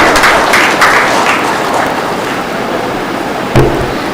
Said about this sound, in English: Let's have a round of applause for Dr. Vasumati Ma'am.